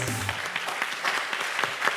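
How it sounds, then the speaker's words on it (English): Applause from the audience at a live climate pitch event after a team presents its game, a moderate, steady clatter of many hands heard from the room, with faint voices under it. "All right, another round of applause."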